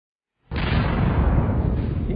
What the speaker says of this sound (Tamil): கடைசியா அவர் அந்த வெடிகுண்டை வெடிக்க செய்யறாரு.